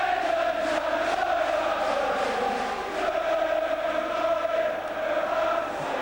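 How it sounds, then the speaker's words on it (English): Dense terrace crowd at a Swindon Town versus Gillingham play-off final replay, roaring and chanting loudly and steadily throughout without pause, the massed voices filling the whole stretch with no commentary on top. "just listen to that crowd."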